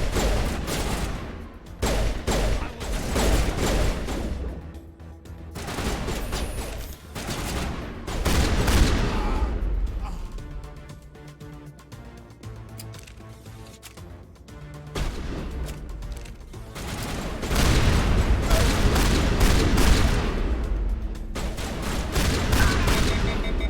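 Mass Effect gunfire rattles in dense, loud bursts of rapid shots and impacts during a combat firefight, pausing briefly mid-way before heavy firing resumes.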